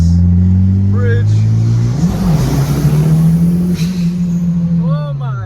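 A Chevrolet Camaro engine rumbles nearby, a loud, steady low drone that swells briefly as it revs, then settles back to a smooth hum, with a voice speaking over it.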